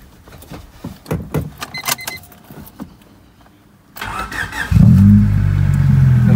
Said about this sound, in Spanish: el carro arranca de un solo, a pesar de que ya estuvo caliente